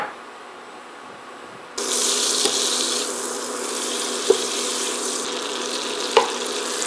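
Butter melting in a pot for a roux sizzles steadily, a broad hiss that switches on abruptly partway through and continues alone, with a few faint clicks and taps over it.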